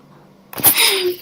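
After a short quiet moment a single sharp, loud sneeze bursts out close by and trails off into a breathy tail.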